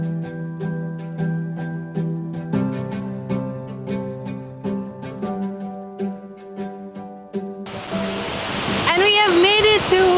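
Kukul Oya waterfall in Digana, Sri Lanka: after a stretch of plucked, melodic music, a loud, steady rushing roar of falling water takes over near the end.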